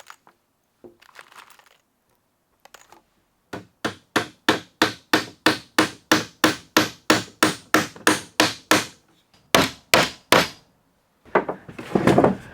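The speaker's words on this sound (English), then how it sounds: "Just get it positioned where it was before and whack 4 new nails in." Nails hammered into a wooden shelf on an old church chair: a steady run of about twenty sharp, evenly spaced blows, then a few more strikes after a short pause, close and loud, with no talking.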